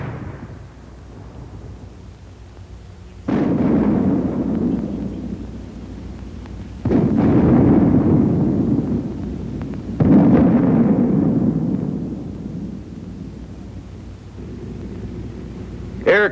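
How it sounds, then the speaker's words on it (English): A mortar fires white phosphorus smoke shells: three heavy, rumbling booms, a few seconds apart, each trailing off into a long roll. A fainter thump follows at the very end. "The mortar also fires smoke shell."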